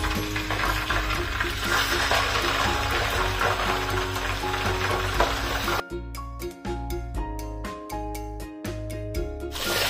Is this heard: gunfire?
no